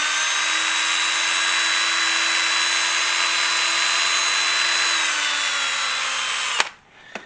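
A power drill burnishing leather whirs steadily at a high pitch, dips slightly, then stops abruptly with a clunk.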